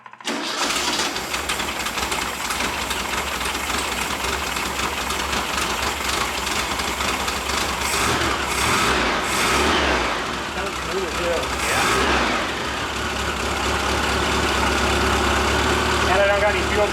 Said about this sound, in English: We want to see if this thing will idle, not puke gas out the top of the carburetor